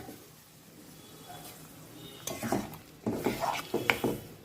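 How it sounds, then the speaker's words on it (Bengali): Spoon scraping and clattering in a pot of simmering chickpea and potato curry, quiet at first, then a few louder bursts of metallic stirring near the end. "অনেকক্ষণ ধরেই নাড়ানো চলছে।"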